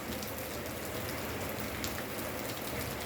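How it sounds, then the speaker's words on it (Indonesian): Steady rain falls and patters on surfaces at a horse-racing track in Tegal Waton, Salatiga, Central Java, a dense, even hiss that stays constant throughout with no voices. "Terima kasih ya Allah sudah dikasih hujan."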